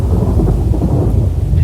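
A radio-drama thunderstorm effect, with loud, dense rumbling thunder under steady heavy rain that fills the whole short stretch without a break.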